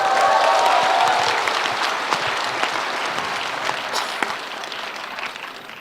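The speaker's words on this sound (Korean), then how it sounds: "박수를 많이 쳐주시던데 오늘도 그렇군요" Audience applause at a political talk concert in Gwangju, a dense, loud wash of clapping from a large crowd that holds steady for several seconds before slowly thinning, with a brief voice or tone near the start.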